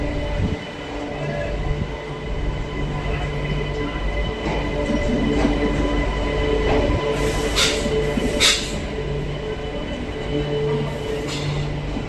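A Barasat–Bangaon local train pulls into Bangaon station at platform 2, with a steady loud carriage rumble, rattling wheels and sharp brake squeals near the end.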